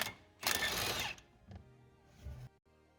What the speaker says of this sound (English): I'm going to have to use my impact to get it out